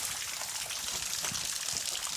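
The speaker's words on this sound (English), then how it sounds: "I'm going around this side of the waterfall." A waterfall in a cave roars as a steady wash of falling water, close and even, with no talk over it.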